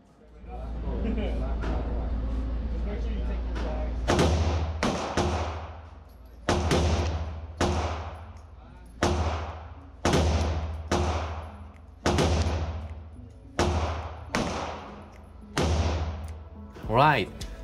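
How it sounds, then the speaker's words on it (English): Gunshots ring out at an indoor 25-yard shooting range: a long series of sharp, loud reports at fairly regular intervals, each with a short echoing tail. A steady low rumble comes before the first shot. "Right, that's 5 shots."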